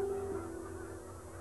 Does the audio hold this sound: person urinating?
no